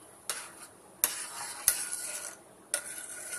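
A wheat flour and coconut milk mixture simmers in a pot while a spoon stirs it, giving a few sharp scraping clinks over a soft, steady bubbling hiss.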